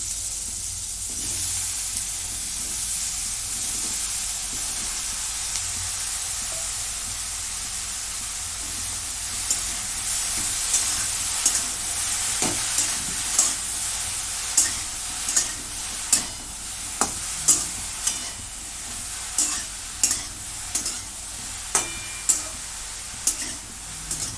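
Eggplant pieces fry in oil in a kadhai with a steady soft hiss, and in the second half a utensil stirs with regular scraping clicks.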